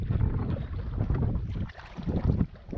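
Heavy headwind blowing across a lake on a canoe trip in Algonquin, a steady low roar buffeting the microphone with gusty swells and faint water sounds.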